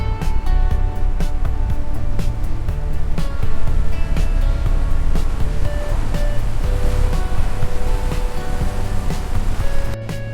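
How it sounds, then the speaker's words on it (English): Tidal water rushing at the Reversing Falls in Canada, a loud, constant roar of churning surf and turbulence, close and unbroken, with no voices. "The Reversing Falls, where the ocean wins every argument with a river."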